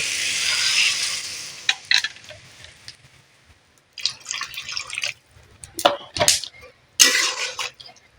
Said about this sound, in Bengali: মশলাটা কষা হয়ে গেছে আমি জলটা ঢেলে দেব